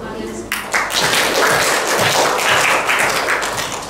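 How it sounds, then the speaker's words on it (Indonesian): A classroom of students claps together for their class, a burst of close, dense applause that begins abruptly and carries on evenly for a few seconds. "Tepuk tangan untuk kalian semua."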